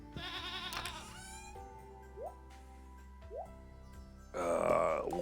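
Goats in the farming video game Stardew Valley bleating loudly in a couple of wavering, bleats at the start and end, with short soft blips between them.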